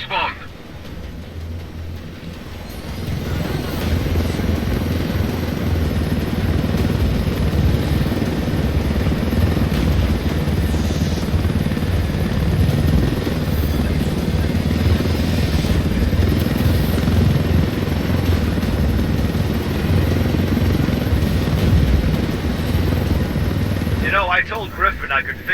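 Helicopter in the video game Ghost Recon Wildlands, a loud, continuous rotor-and-engine drone that builds after a few seconds and holds steady, with voices talking over it.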